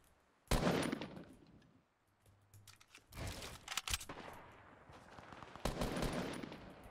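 Fortnite gunfire comes in several loud bursts of rapid shots, separated by short quieter gaps, with no talk over it.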